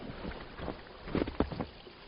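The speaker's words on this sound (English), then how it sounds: "there's a nice little creek flowing through the woods here" A small creek flows through winter woods beside a little footbridge, giving a steady broadband wash of running water with a few brief splashing bursts, close and continuous.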